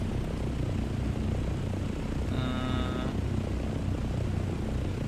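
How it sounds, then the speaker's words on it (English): A helicopter in the video game Dune Awakening flies steadily, a continuous droning engine and rotor hum with a brief tonal whine partway through. "having the helicopter makes everything way easier"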